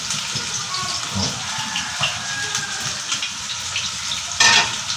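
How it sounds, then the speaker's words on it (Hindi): Onions sizzle and fry in hot ghee in a pan for a rice dish, a steady close hiss with light stirring and a brief louder crackle near the end. "घी ऐड करना है और 2-3 मिनट गर्म होने के बाद हमें इसमें प्याज डालना है।"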